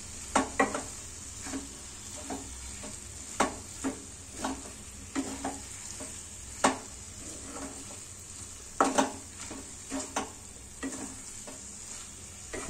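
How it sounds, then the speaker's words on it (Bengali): Cabbage stir-fries over a medium-low flame, a constant bright sizzle with regular scraping stirs against the pan every second or so, close and steady without any voices. "বেশ কিছুক্ষণ আমি কিন্তু বাঁধাকপিটা কষতে থাকলাম, খুব ভালোভাবে নাড়াচাড়া করে নিলাম"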